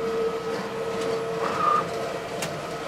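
A direct-to-film (DTF) transfer printer lays down the colour layer, a steady mechanical hum and whir with a sustained tone, a brief higher whine midway and faint clicks, close and continuous.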